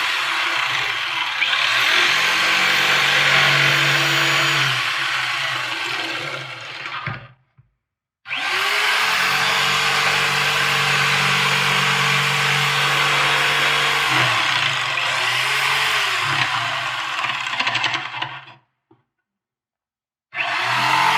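A power saw cuts through mahogany on a boat bulkhead with a loud, sustained whining drone in two long passes, separated by a short silence and ending abruptly.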